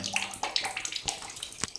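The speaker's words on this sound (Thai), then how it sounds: "ที่เป็นหัววาล์วที่เปิดปิดน้ำเนี่ยน้ำหยดน้ำหยดน้ำหยด ก็เพราะว่าวาล์วเมื่อกี้พังนะครับผม" Water drips and splashes steadily from a broken Sanwa shower valve, a close, continuous patter of small drops with no voices.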